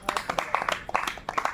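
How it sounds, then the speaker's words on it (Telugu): Loud clapping from a person in a church worship setting, a quick irregular burst of sharp claps that is close and fairly loud. "గట్టిగా చప్పట్లు కొట్టి."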